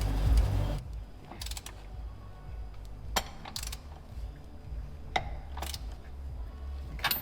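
Wrench work on the oil pan bolts of a Ferrari 308, a series of close metallic ratcheting clicks and small clinks spread over a quiet garage background.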